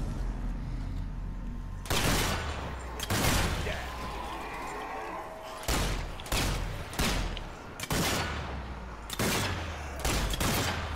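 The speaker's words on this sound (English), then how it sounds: "Oh, that was a headshot for sure." Gunfire in the co-op video game Zombie Army 4 comes in loud, close bursts of shots separated by short pauses, several volleys cracking over a low rumbling background without speech.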